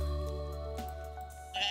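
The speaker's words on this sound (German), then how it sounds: "So, und dann noch ein Schaf." A sheep bleats in Stardew Valley, a single sustained, tonal cartoonish bleat that is close and clear, with no talk.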